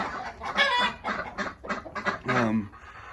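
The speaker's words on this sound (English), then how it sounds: "The ducks have been pretty loud and chirpy this morning." Ducks on a farm call loudly in the morning in a series of honking, quacking bursts, close by and overlapping one another.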